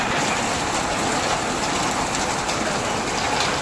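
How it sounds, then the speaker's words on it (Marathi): Heavy rain pours down in a dense, unbroken hiss that stays at an even volume throughout. "आता पाऊस दाखवतो"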